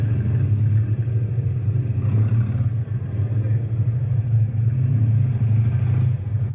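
A motorcycle accelerates on a competition track, giving a sustained low engine drone and rumble throughout with a faint rise near the end, while a voice talks over it.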